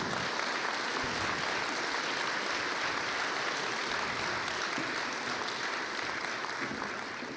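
Sustained applause from a conference audience, a dense, even clatter of clapping that continues throughout before easing slightly at the end.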